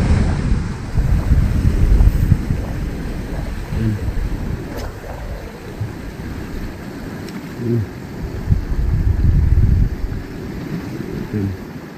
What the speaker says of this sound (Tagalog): Kaya sumasampa na yung mga alon dito.